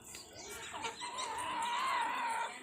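A single fighting rooster gives a drawn-out, wavering call, faint and somewhat distant, with no talking.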